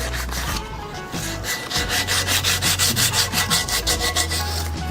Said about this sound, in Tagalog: Gamit kong liha dito, 150 grit.